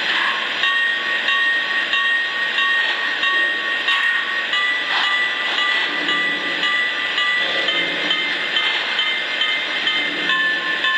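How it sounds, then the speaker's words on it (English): Bell tones from a Lionel Vision Line Union Pacific Big Boy O scale model steam locomotive, a steady ringing of repeated metallic tones running continuously and fairly loud, with train sound-system noise beneath. "Here is the bell tones."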